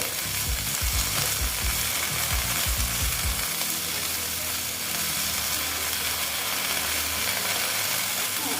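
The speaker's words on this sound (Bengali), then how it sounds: "মোটামুটি ঢেঁড়সটা আমার ভাজা হয়ে গেছে" Okra frying in a pan with turmeric: a loud, steady sizzle and crackle of hot oil with some rougher stirring noise near the start, no voices.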